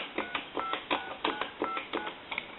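A string of telephone keypad tones from a Spirit of St. Louis speakerphone, about eight quick beeps in an uneven rhythm, each a short dual-tone chirp over faint line hiss.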